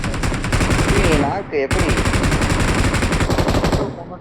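Rapid machine-gun bursts ring out from a shooting video game, loud and continuous with a brief break in the middle while a player's voice talks over the action.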